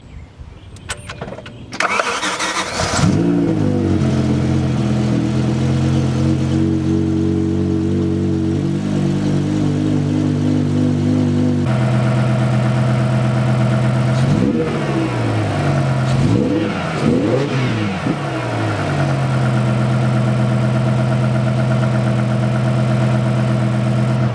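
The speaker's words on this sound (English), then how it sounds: "Smooth idling engine." A BMW E60 M5 V10 engine cranks and catches after new spark plugs and ignition coils, revs briefly a few times, then settles into a steady, even idle that runs on close by.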